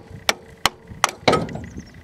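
A piece of firewood hammered against a part on a 2001 Kia Sportage engine to knock it loose: four sharp, close wooden whacks about a third of a second apart, the last followed by a brief metallic clatter.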